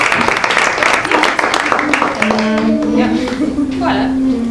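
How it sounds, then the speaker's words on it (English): An audience claps during a youth orchestra session at Soweto Theatre, the burst of applause thinning out as sustained instrumental tones rise and hold underneath. "Give us a round of applause."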